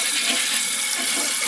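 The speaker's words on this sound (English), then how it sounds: "Sometimes these will do a double flush because of the flipping" Toilet flushing twice because of its flapper, a steady rush of water swirling and draining close by, continuous and fairly loud with no talking.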